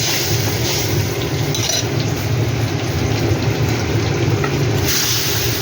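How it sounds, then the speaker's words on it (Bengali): Water poured into a pan on a lit gas stove while a fish curry is made, a steady close rushing pour that runs unbroken for several seconds. "গ্যাসটা ধরে দিলাম, জলটা ঢেলে দিলাম।"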